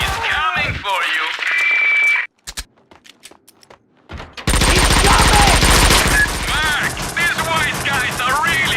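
Gunfire in the Max Payne 2 shooter game, heard as loud rapid bursts of automatic shots, then a brief lull with scattered sounds, then another sustained stretch of heavy firing, with voices speaking amid the shooting.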